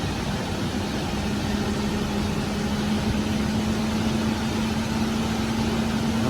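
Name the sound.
truck engine revving and shifting gears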